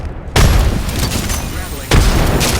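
Two heavy, close explosions burst out in Apex Legends gameplay, each a loud sudden boom of a frag grenade followed by a dense rumbling wash, about a second and a half apart.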